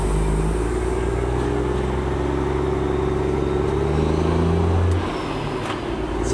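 Heavy dump truck engine droning loudly and steadily as it drives toward a quarry, a continuous low rumble with layered engine tones that drops off abruptly near the end.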